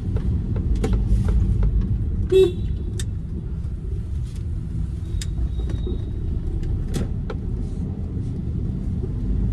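A Maruti Suzuki SX4 petrol sedan's 1.5-litre engine pulls steadily as it accelerates, a close, continuous drone with a few brief sharp clicks and a short horn-like toot partway through, no speech.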